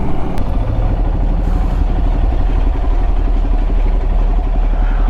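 A customized 2010 Harley-Davidson Street Bob motorcycle engine idles nearby with a steady, loping low rumble and faint mechanical clatter, continuous and fairly loud with no talking.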